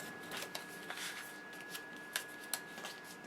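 Paper crinkles and snaps softly up close as score tape backing is peeled and a paper card holder is folded, a few quiet rustles and sharp little crackles.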